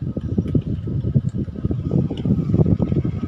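An electric fan whirs on high speed, a steady rushing hum with uneven airy fluctuations, close to the microphone.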